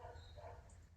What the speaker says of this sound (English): It's like a boxer bark.